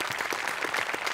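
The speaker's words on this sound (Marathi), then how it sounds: "त्यांच्यासाठी एकदा जोरदार टाळ्या." A studio audience at a Marathi comedy show gives a short, even burst of loud applause, thick continuous clapping lasting about a second.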